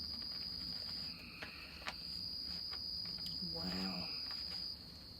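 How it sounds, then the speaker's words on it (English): Crickets chirp steadily through a quiet night, a continuous high shrill trill close by, with faint frogs and a brief soft exclaimed word partway through. "hearing the frogs and the crickets, the occasional screech owl"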